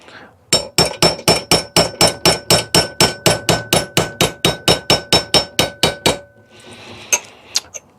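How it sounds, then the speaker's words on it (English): Soft aluminum being sheared by a machine, a fast, loud run of about twenty metallic clanks in steady rhythm, then a few scattered knocks. "It's shearing in there just fine. The aluminum is so soft."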